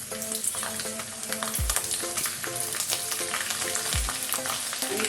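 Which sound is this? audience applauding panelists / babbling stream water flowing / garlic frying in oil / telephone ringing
garlic frying in oil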